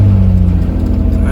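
A 2004 Nissan Maxima engine stuck at a high fast idle with a camshaft position sensor bank 2 fault, a loud steady hum up close while someone talks over it.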